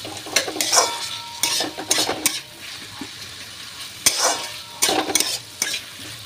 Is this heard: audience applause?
no